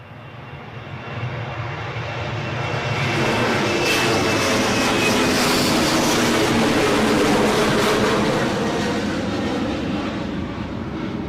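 Loganair ATR turboprop airliner engine at Newcastle airport in gusty crosswinds, a loud broad sustained roar that swells and holds steady for about ten seconds, close by with no talk.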